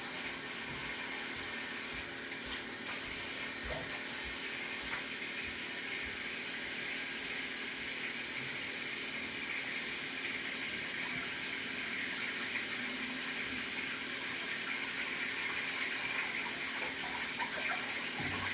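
Steady running tap water streams over a kitchen knife being rinsed in a sink, a continuous close hiss and splash with small shifts as the blade moves under the flow, no talking.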